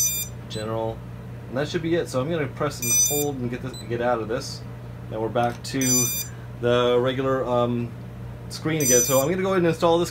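Someone talks steadily while short high-pitched electronic beeps from a RunCam Split camera sound in clusters several times, clear over his voice.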